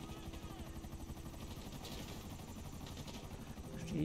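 Helicopter in GTA V coming under fire, a steady whirring rotor chop with rhythmic blade pulses throughout, fairly faint, swelling slightly at the end with sparse gunshot-like hits.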